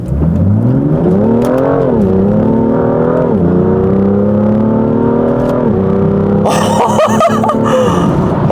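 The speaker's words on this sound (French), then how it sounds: "je vois une magnifique petite ligne droite pour un magnifique launch control comme on aime" A BMW M2 launches hard with launch control engaged, its engine climbing loudly through the revs with shifts between rising pulls, heard from inside the cabin, ending in a burst of rattling noise.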